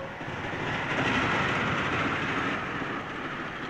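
Train rolling past, a steady rumbling clatter of rail wheels that swells slightly and then eases over a few seconds, with no talking.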